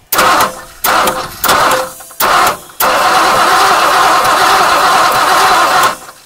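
A 1959 Mercury Monterey V8, dormant for a decade, cranks over in several loud, close bursts of starter whirring separated by short pauses, then one longer sustained crank before stopping.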